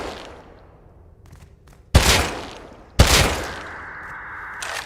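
Gunfire in the Rust survival game as a magazine is emptied, heard as two sharp, loud bursts with ringing decay after a quieter opening.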